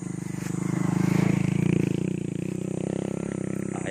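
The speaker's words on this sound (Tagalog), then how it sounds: "May nakasulubong tayo nakamotor" A motorcycle passes close on a rural road, its engine putting out a steady, throbbing drone with a rapid pulsing rhythm that swells and then eases off slightly as it goes by.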